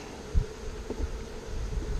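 Honey bees swarm around a queen cage in a hive during a split, giving a low, continuous buzzing hum close by with a few brief louder swells.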